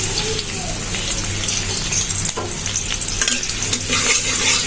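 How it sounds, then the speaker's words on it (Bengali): Onions frying in a pan for a prawn vegetable curry, a steady loud sizzle with scraping stirs and faint watery crackle throughout, no talking. "পেঁয়াজটা একটু ভাজা ভাজা হয়ে গিয়েছে"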